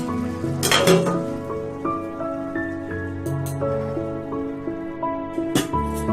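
Cooking pot lid lifted off after pilau rice has rested on the gas stove, with clinks and a metallic clatter from the lid and utensils over a steady kitchen hum.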